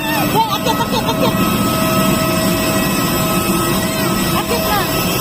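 An airplane jet engine drones loudly and steadily at the airport, a close, continuous roar with people talking over it.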